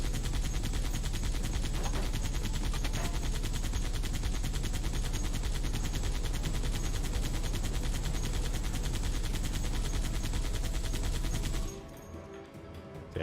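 Heavy, nonstop automatic fire from a modded weapon in Halo 3, a loud dense rattle for nearly twelve seconds before cutting off as the gun overheats, leaving a quieter hiss and faint rumble.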